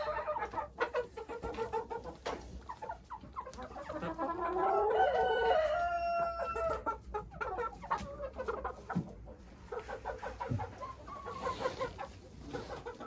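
Marans hens and other chickens clucking and crowing inside a closed coop during frost, with a rooster crow rising mid-way amid steady nearby clucks and rustling.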